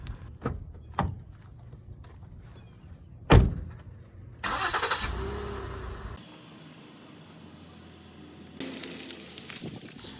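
A car door thumps shut, then the engine cranks and starts with a rising roar before settling into a steady running hum as the car pulls away.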